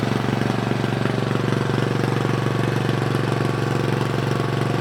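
Briggs & Stratton small engine running with a cheap muffler, a loud, close, rapid steady putter with sharp exhaust pulses and no pauses.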